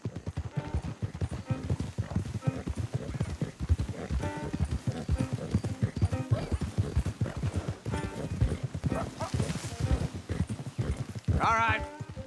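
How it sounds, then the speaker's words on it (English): Horses' hooves clop steadily in Red Dead Redemption 2, a rapid continuous clip-clop that runs throughout under voices talking, with a brief whinny-like cry near the end. "Don't want the horses clopping around outside the window."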